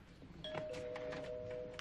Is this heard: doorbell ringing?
yes